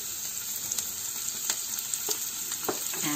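Ginger and garlic paste sizzling in a pan with chopped carrot, a constant bright frying hiss with scattered spatula clicks and scrapes, close and steady, no voices.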